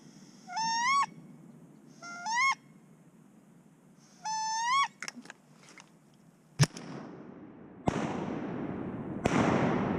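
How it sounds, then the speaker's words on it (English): A hunter blows a duck call in several short bursts of rising, quacking calls, spaced by pauses, followed by loud sharp shotgun-like blasts and rustling noise outdoors. "and he gets on his duck call."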